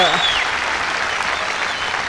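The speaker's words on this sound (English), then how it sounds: "Gets the biggest cheer of the night." A tennis crowd at a night match between Marion Bartoli and Dinara Safina cheers and applauds loudly, a dense continuous wash of clapping with voices mixed in.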